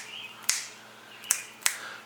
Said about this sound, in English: Let's see if I can snap my fingers